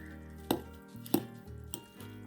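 Chinese cabbage salad with garlic and cucumber is tossed and mixed in a bowl, giving three soft, evenly spaced knocks and clatters against the dish over a steady background hum, with no voices.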